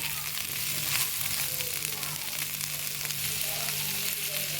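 Ingredients for a hyacinth bean mash sizzle and crackle steadily in a hot pan, a close, continuous frying hiss with occasional stirring scrapes.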